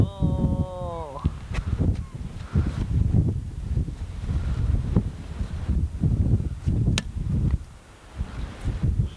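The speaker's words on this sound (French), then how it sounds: "Voilà, le vent." Wind buffets the microphone in a steady, rough rumble throughout, with a brief tonal sweep at the start and faint sounds underneath, at Tadoussac, Quebec.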